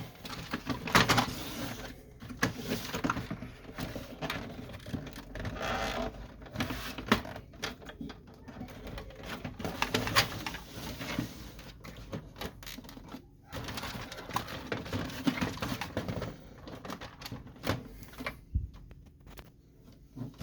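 An HP Officejet 3830 printer being disassembled, with a plastic part pulled up and slid out: scattered close plastic clicks, scrapes and rattles in an irregular rhythm over a steady room background, with no talking.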